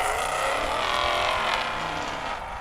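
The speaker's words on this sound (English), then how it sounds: "Doug Jones really had a quiet car sitting at the starting line, but then it really got loud quick" A race car at an off-road race in Arnold, Nebraska, runs loud and steady near the starting line, its engine roaring continuously with a slight fade toward the end.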